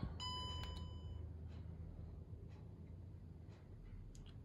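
A DJI Osmo Mobile 4 smartphone gimbal powers up with a short cluster of quick high electronic beeps at the start, faint and close, followed by quiet room hiss with a few soft clicks.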